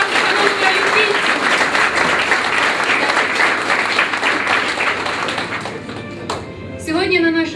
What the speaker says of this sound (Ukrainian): Ще раз привітаємо їх оплесками.